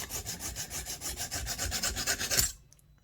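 Rapid, even back-and-forth rasping strokes while cutting a part for a McCulloch Super Pro 125 chainsaw rebuild; about fifteen close strokes, then sudden silence.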